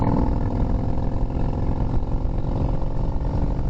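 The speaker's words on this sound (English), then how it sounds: "I think it's because of the sound of the engine is why they call them choppers." A chopper motorcycle engine idles with a deep, throbbing, low-pitched rumble. It runs steady and close with no voices.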